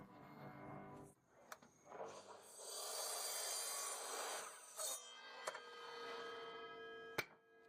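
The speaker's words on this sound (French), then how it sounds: "Je vais d'abord couper l'étagère centrale à une longueur de 45 cm." A pallet-wood shelf board is sawn to length in one rasping cut lasting a few seconds, faint and close, followed by a few light knocks and clicks.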